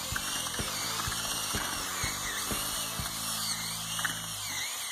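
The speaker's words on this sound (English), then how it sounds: "And the thing about this drill, it's got a low setting" A power drill on its low setting mixing self-leveling floor compound powder with water in a bucket, a steady mechanical whir with rapid rhythmic ratcheting clicks, close and continuous.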